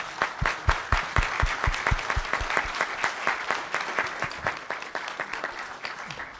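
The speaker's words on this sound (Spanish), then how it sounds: "un aplauso, por favor, para la ingeniera" At a technology seminar, an audience applauds an engineer: a moderately quiet round of clapping with distinct rhythmic claps near the start blending into a steady patter that gradually fades.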